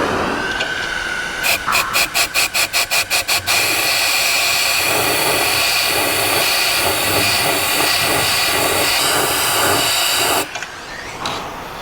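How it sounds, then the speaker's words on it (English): A compressed air nozzle pushed into a radiator tube blows out machining chips, a loud steady hiss with a stuttering series of rapid bursts early on, then a long sustained blast that cuts off abruptly. "I'm going to start by putting the air nozzle in the tube that's opposite of this and try to just blow it out that way."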